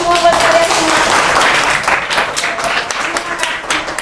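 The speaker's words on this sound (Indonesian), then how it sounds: "Tepuk tangan semua buat kalian" Applause from participants at a school teaching session, steady dense clapping with some voices and crowd noise throughout, fairly loud and close.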